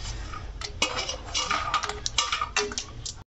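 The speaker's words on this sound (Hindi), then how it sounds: "घी गरम हो गया है, हम इनको हम भूनेंगे, मूंगफली और काजू को और बादाम सब एक साथ" Peanuts, cashews and almonds being stirred and roasted in hot ghee in a pan, with a continuous sizzle and busy clinks and scrapes of a utensil against the metal.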